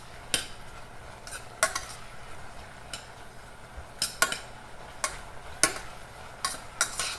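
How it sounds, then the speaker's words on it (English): A spoon scrapes and taps against a pan of softening strawberries for chia seed jam in irregular strokes, with a faint sizzle underneath, close and clear with no talking. "I just keep stirring because I don't want the strawberries"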